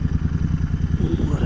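A Royal Enfield Continental GT 650 engine runs on a Sunday ride, a steady low throbbing pulse with a faint rising whine near the end.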